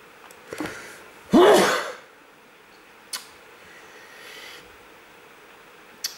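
A single loud sneeze bursts out near the mic, preceded by a short intake of breath, with faint small clicks before and after in an otherwise quiet room.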